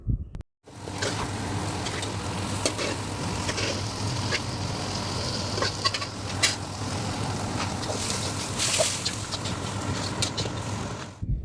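Washed chicken pieces hit a hot pan for pepper chicken gravy with tomatoes and water, giving a steady loud sizzle and bubbling hiss that runs almost without pause after a brief gap at the start.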